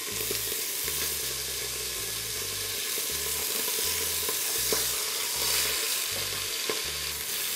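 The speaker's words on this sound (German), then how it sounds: "ich tue das von allen Seiten anbraten" Constant sizzling and crackling of beef rolls searing in hot oil on all sides, with a faint repeated low thumping underneath.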